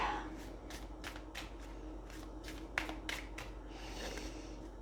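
A deck of tarot cards is shuffled in a quiet room, giving about ten soft, quick riffling bursts in a steady rhythm, close by and faint.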